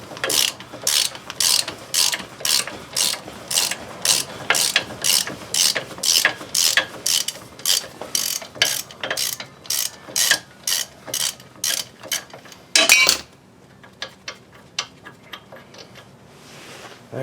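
A ratchet wrench backs a lubricated bolt out of a seized wheel hub, its pawl clicking in a steady run of sharp, close bursts that repeat for about twelve seconds before fading into a few scattered clicks.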